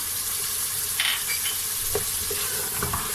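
Spices with red chilli, turmeric, salt, cinnamon and cardamom roasting alongside black chickpeas in a pan, a constant loud sizzle with a few scraping stirs and light clinks.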